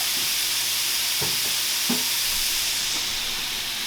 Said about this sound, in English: So now while this is frying